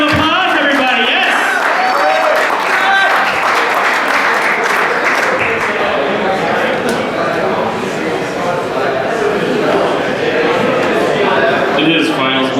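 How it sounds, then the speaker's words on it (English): Audience applause and cheering for a stand-up comedian at a backstage entertainment show, a dense, loud wash of clapping and crowd noise that fills the whole stretch, with a host's voice calling out over it. "Give him a big round of applause, everybody."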